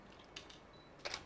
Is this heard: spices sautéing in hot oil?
no